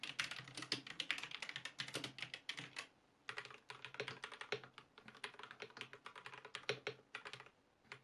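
Steady, fast typing on a Hator Gravity X TKL mechanical keyboard with linear switches and a thick metal case, a dense run of soft clicks with a brief pause midway, no voices.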